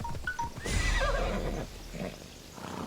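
Horse neighing in the video game Assassin's Creed Odyssey: a single clear, drawn-out whinny of moderate loudness over a low background hum, with faint hoof-like sounds nearby.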